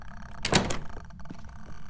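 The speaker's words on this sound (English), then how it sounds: "Mate, she's just locked the door behind us." A door in the horror game Phasmophobia, shut and locked by the ghost, gives a single close, solid thunk with a short latch click after it, heard alone over a low background hum.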